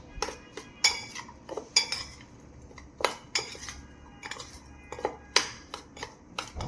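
A metal spoon mixes instant pickle with methi masala, giving irregular sharp clinks and scrapes against the bowl, close and fairly loud, with short pauses between strokes.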